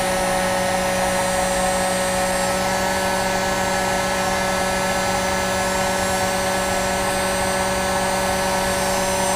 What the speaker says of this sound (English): the heat gun is probably the best way to go